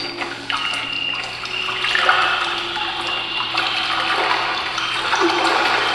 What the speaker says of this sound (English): Kind of like a swamp in a basement.